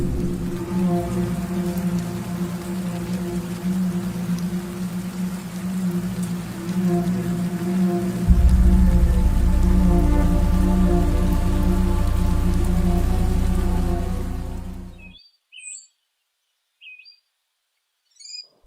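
Steady, dense rainfall patters on a surface for about fifteen seconds, growing heavier partway through, then cuts off abruptly, leaving near silence with a few faint chirps.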